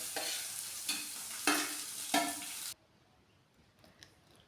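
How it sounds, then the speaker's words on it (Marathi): Onion, curry leaves and green chilli sizzle in hot oil already crackling with cumin and mustard seeds, with three scraping stirs in the pan before the sound cuts off into near silence. "कढीपत्ता, मिरची आणि कांदा घालून छान परतून घेतलं"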